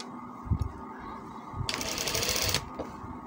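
A sewing machine whirs in a short burst of under a second while a kameez sleeve is stitched, set between quieter handling noises.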